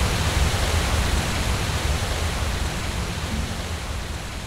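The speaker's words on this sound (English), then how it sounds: "Run away from the waterfalls, run!" Roaring waterfall in the game Skyrim, Enderal mod: a steady, loud broadband rush of falling water, continuous and unchanging throughout with no voices.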